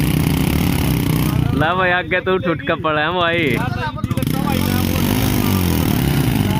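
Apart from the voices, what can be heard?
Hero HF Deluxe motorcycle engines idling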